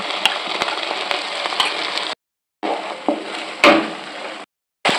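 Ginger garlic paste hits onions frying in a pan for chicken rezala, a loud crackling sizzle that cuts out twice and starts again, with sharp pops and a few scrapes of stirring.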